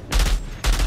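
Gunfire in the Outriders video game, two loud bursts of rapid shots separated by a brief lull, close and dominant with no talk over them.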